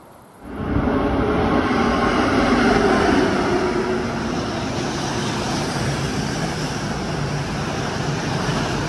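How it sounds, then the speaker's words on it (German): A freight train rolls past below on the Brenner north ramp line, a loud, steady broadband rumble that surges in after half a second and holds unbroken to the end, with no voices. "Oder unten ist ein Güterzug"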